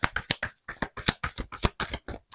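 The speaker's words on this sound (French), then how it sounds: "Allez, on va prendre une autre petite carte du" Oracle cards being shuffled and drawn by hand, producing a quick series of close, crisp riffling flicks and slaps in an uneven rhythm.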